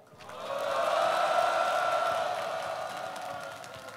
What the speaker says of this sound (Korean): 힘찬 함성과 박수 부탁드리겠습니다.